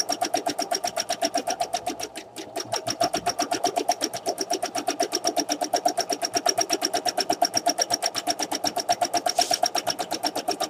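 A sewing machine does free-motion stitching of a petal design around a circle on an appliqué, running at a fast, even rhythm of rapid needle strokes. It pauses briefly, then keeps going at a steady pace, close and clear.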